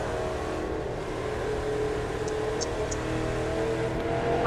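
A car engine in The Crew 2 driving game holds a steady, droning rev at close range, rising slightly in loudness toward the end with no talk over it.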